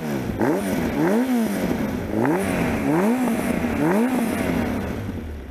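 Café racer motorcycle with a stage 3 tune being revved in place, engine note climbing and falling in four repeated blips over a throaty idle, loud and close with no talking.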